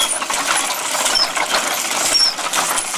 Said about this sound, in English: you get tired of turning the crank